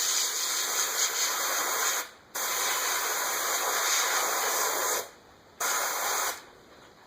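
An airbrush hisses steadily as it sprays paint onto a bluegill skin mount, in three long continuous bursts separated by brief pauses, close and even in level.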